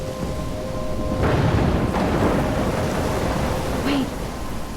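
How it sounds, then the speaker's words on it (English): Thunderstorm with steady rain in the video game Life Is Strange, a dense constant wash of rainfall with a low rumble of thunder swelling partway through, heard alone without talk. "I'm trapped in a storm?"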